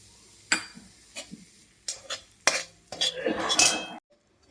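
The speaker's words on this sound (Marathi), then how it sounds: "यामध्ये आपण हा रवा भाजून घेऊया." Semolina is roasted in ghee in a pan, with a spoon clinking and scraping against the metal in sharp, irregular strokes before the sound stops.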